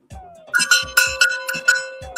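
Cowbell struck repeatedly in a loose, uneven rhythm during a live show, bright metallic clanks ringing out close and loud, alone without talk.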